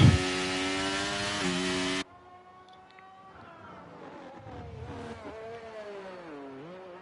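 F1 23 race cars on the Hungarian Grand Prix circuit: a loud, high engine whine cuts off suddenly, then fainter onboard engine tones rise and fall as the car revs through gears.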